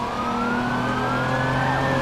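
Police car siren in the video game Watch Dogs, a sustained rising electronic wail over a steady engine drone, close and continuous with no speech.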